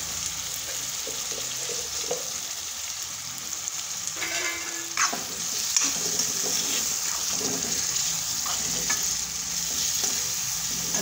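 Tomatoes frying and being stirred in a pan for masala pav, a steady sizzle with repeated scraping stirs and occasional clinks, close and moderately loud throughout.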